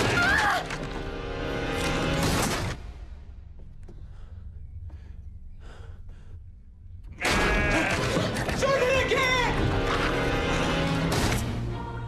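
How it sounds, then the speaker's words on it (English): Loud, overlapping bleating from a flock of sheep, breaking off for a few seconds of quieter thumps before the chorus of bleats returns. "Is something wrong with the sheep?"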